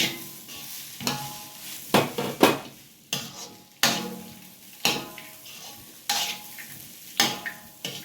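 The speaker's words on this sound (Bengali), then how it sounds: "এই ভাজা ড্রাই ফ্রুটসটা এর মধ্যে এবার দিয়ে ভালো করে মিক্স করে নেব" Fried dry fruits being stirred into cooked semolina halwa (sooji halwa) for a festival offering: a utensil scrapes and stirs the thick mixture in repeated strokes, close and moderately loud, with faint sizzling and no voices.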